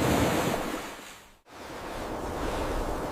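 Steady broadband rush of ocean surf washing onto a shore, loud and continuous with a brief dip midway, no voices present.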